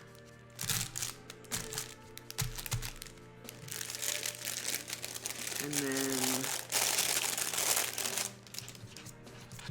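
A thin sheet of vellum crinkles and rustles softly as it is picked up and handled close by, in faint intermittent bursts, with brief speech heard.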